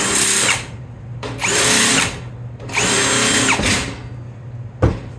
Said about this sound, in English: I'm just gonna grind just enough to get the weld started at each spot